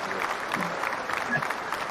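A small crowd claps steadily for a couple of seconds, a dense patter of hands with faint voices mixed in.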